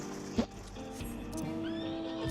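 A horse in the video game Final Fantasy XIV whinnies loudly and briefly, followed by hoof clip-clops and a steady background hum.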